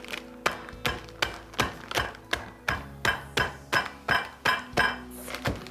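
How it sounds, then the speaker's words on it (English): A hammer smashing Oreo cookies in repeated sharp blows, about a dozen crunching thuds in a steady, slightly uneven rhythm, close and clear with no talking. "We're gonna crush them with a good old hammer."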